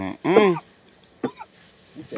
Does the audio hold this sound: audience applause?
no